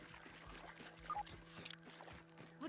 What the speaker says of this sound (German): Jetzt gehen wir erstmal ins Wasser.